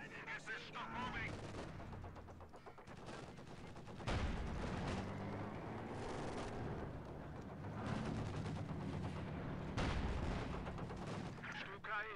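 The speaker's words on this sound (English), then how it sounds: "Stuka is dive bombing." Stuka dive-bombing attack in the World War II strategy game Company of Heroes 2, with a dense battle din of artillery, gunfire and heavy impacts, swelling into loud bursts and blasts over sustained rumble.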